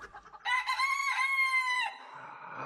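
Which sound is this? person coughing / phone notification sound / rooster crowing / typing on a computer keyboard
rooster crowing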